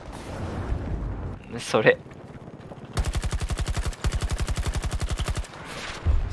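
Automatic gunfire in Battlefield 2042, aimed at soldiers parachuting down: two long rapid bursts of evenly spaced shots, loud and close, with a brief spoken word just before them.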